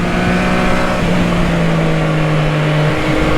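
Triumph Street Triple 765 RS motorcycle engine under way on the road, a loud steady drone holding one pitch with wind rush, close and continuous, no voices.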